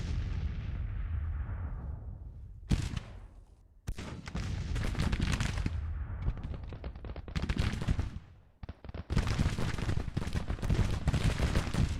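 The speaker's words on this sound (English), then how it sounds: "Artillery's really pounding that detachment." Heavy artillery fire pounds a Civil War detachment in the strategy game Grand Tactician: The Civil War at the Battle of Baltimore, a string of loud booming cannon blasts and rolling volleys with brief lulls between bursts.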